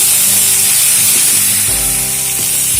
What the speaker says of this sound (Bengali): পটলগুলোকে বারে বারে নাড়াচাড়া করে ভেজে নেব